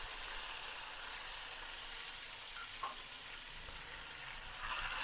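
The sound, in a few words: onions, tomatoes and ginger-garlic paste frying and stirred in pan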